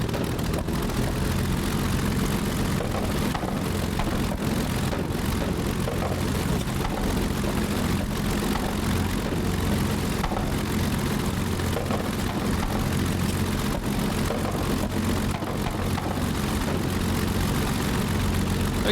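A Messerschmitt Bf 109G-6 piston engine idles in Microsoft Flight Simulator 2020, giving a loud, steady low drone with a throbbing propeller beat that holds evenly throughout.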